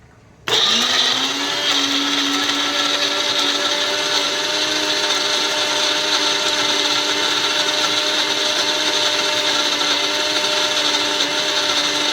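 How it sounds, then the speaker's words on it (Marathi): A blender whirs into a steady, loud grinding drone after a sharp start, pulverising onion, tomato and garlic into a smooth paste, running continuously on its own without pause. "टोमॅटो आणि लसूण अशी आपल्याला पेस्ट करून घ्यायची व्यवस्थित"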